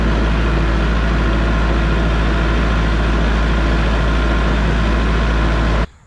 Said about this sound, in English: So I'm headed to the gravel pile on the tractor